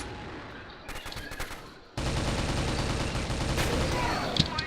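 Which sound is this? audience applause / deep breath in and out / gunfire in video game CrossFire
gunfire in video game CrossFire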